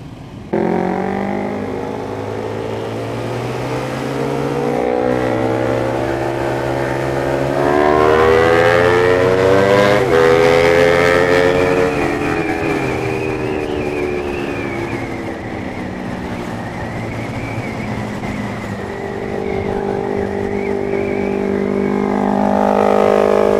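A loud motorcycle engine revs hard over and over, rising and falling in pitch with piercing, siren-like harmonics, heard close and alone without talk.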